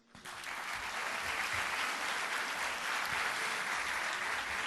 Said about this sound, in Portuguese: nosso agradecimento através de uma salva de palmas